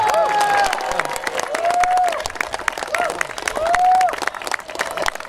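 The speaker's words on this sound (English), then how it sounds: "Let's give them all a round of applause." Crowd applause for American veterans seated in the front row at a memorial ceremony in Westminster, California, with steady dense clapping and some cheering filling the whole stretch, mixed with tonal whistles or voices rising above it.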